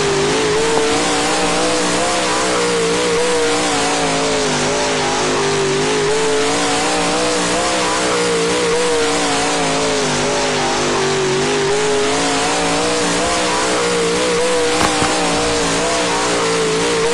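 Super late model race cars roar around a dirt track in the Dirt Trackin video game, engines droning continuously with rising and falling revs as they accelerate through the laps, loud and unbroken throughout.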